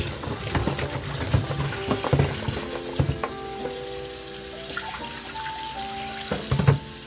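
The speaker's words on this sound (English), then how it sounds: "I'm gonna have the pumpkin washed." A pumpkin is rinsed under a running kitchen tap, with continuous splashing water and irregular knocks and clunks as it is turned and handled in the sink. The sound is close and moderate in level, with no talking.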